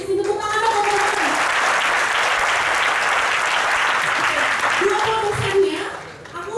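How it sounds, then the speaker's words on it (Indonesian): A crowd applauding steadily for several seconds, dense clapping that fades out at the end, with a voice faintly audible at the start. "Tepuk tangan dong"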